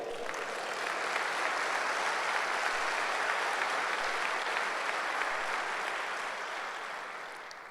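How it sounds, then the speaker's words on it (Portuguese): A church congregation at a Sunday service applauds together, a sustained wash of many hands clapping that swells, holds steady and slowly fades, with no talk over it. "Vamos dar um aplauso a Ele?"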